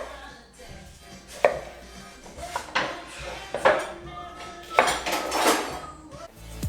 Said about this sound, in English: Slice your Brussels sprouts in half and then cube your sweet potatoes.